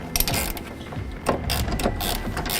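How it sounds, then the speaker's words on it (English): Close-up ratcheting clicks come in steady, rapid runs as a ratchet with a 3/4 inch socket tightens the rear strap on a 47-gallon fuel tank under a 2019-22 Mercedes Sprinter van. "with the provided hardware, we're gonna take a 3/4 inch socket and tighten up this rear strap"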